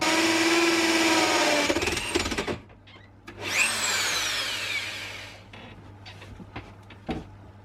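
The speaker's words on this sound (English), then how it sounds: "So I drilled the full size hole." A power drill cuts a full-size hole through a boat hull for a Jabsco sea toilet, whining loudly for about two seconds, stopping, then running again in a shorter burst before going quiet with a few faint knocks.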